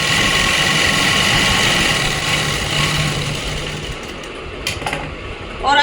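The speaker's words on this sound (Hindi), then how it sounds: "1/2 इंच का मार्जिन देते हुए इसे सिल देंगे नीचे वाले हिस्से को पॉकेट से" An electric sewing machine runs steadily, stitching a pocket onto Afghani pants with a rapid, even mechanical whirr. The whirr slows and falters near the end with a few clicks.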